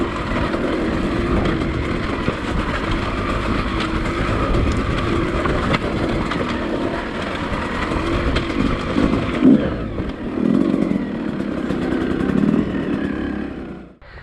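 A Beta 200RR two-stroke dirt bike engine drones steadily and loudly throughout, with a continuous buzzing tone and small revving swells near the end before it cuts off.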